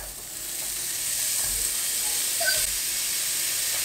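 Beef mince hits a hot pan with no oil and sizzles loudly, the hiss swelling after a second and staying bright, with faint scrapes and crackles close by, no talking.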